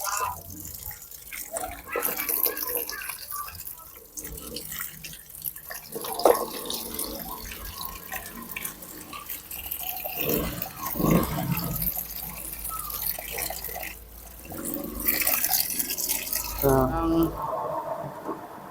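Tap water runs steadily into a basin, rinsing a batch of produce in a small home food business. Splashing rises and falls, and voices talk over it throughout.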